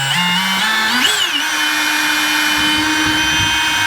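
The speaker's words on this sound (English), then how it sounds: "we're going to drill a hole through here" A power drill whines steadily as it bores a 6mm hole through a PWC cover panel, its pitch rising briefly near the start before settling into a loud, continuous drone with no talking.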